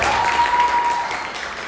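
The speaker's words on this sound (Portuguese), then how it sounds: "Aplausos para o Vitor." An audience in a church service gives brief, steady applause that continues evenly for under two seconds, with a faint tone running underneath.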